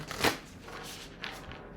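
Quick papery riffles of oracle cards being shuffled, a few soft bursts close by in a quiet room.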